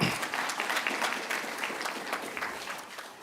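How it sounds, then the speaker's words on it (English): An audience applauding at a MISA reflective indaba, a dense, loud burst of many hands clapping together that tapers slightly over a few seconds, with no voices over it. "We must really applaud MISA for the work well done"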